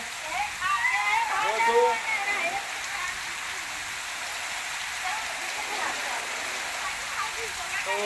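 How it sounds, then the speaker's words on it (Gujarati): Steady rain falling in Patan during a windstorm, a broad continuous wash of close pattering, with a person speaking over it at the start. "પાટણમાં અમારે વરસાદ છે વાવાઝોડા સાથે છે"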